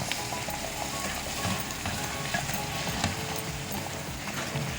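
Semolina halwa stirred with thick sugar syrup in a pan makes a steady soft sizzle with repeated scraping and clacking of the spoon against the pan.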